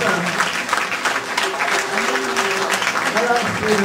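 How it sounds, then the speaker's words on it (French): An audience applauds steadily and loudly at a French comedy sketch show, while a voice talks over the clapping. "on applaudit quand même"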